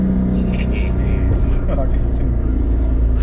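A boosted 500 HP Subaru STI engine runs steadily at around 15 psi, a loud, close, continuous low rumble with no obvious misfire stumbles and faint voices underneath.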